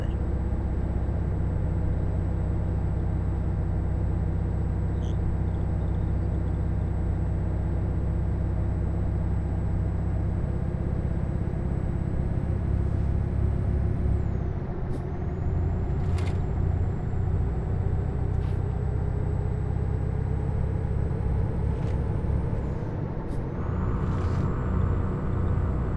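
A truck in Euro Truck Simulator 2 drives with a steady engine drone that shifts pitch through gear changes, with short hissing bursts like air brakes near the end.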